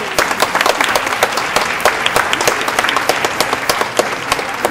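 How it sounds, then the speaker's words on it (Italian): A theater audience applauds on stage at an Italian event, many hands clapping in a dense patter with sharper individual claps standing out, steady and fairly close throughout, no voices on top. "Un applauso, grazie."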